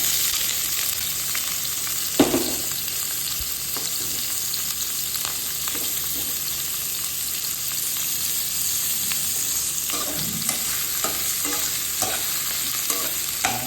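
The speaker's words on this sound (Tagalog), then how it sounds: "Mainit na yung kalan natin, pwede na natin na igisa yung mga condiments natin." Ginger, onion and garlic being sautéed for chicken tinola in a hot pan, with a steady sizzle and occasional stirring scrapes throughout, close and alone without talk.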